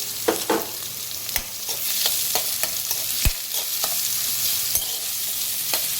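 Chopped onion sizzles steadily in a hot pan while a spoon scrapes and stirs it in irregular clacks; close, moderately loud, with no talking.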